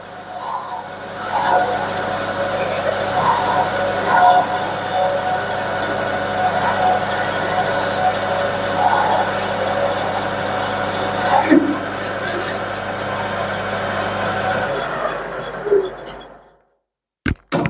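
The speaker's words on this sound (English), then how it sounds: "It got quieter when I pushed the drill a bit harder." A drill at 700 RPM grinds steadily into a metal cylinder cover for a long stretch, a constant mechanical whine with small surges, before abruptly stopping into silence.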